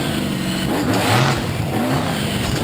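A monster truck's engine roars loudly and continuously as the driver throws the truck around at a monster truck event in Fredericksburg, Virginia, with repeated revving swells over a steady rumble and no voices.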